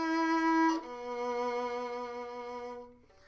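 A muted violin plays a melody with heavy vibrato, holding a clear sustained note that drops to a lower, long-held tone before fading, played solo and up close.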